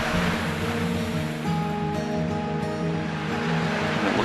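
Water rolling down a waterfall over granite into a brook in winter woods, a steady, loud, continuous rushing wash with no voices.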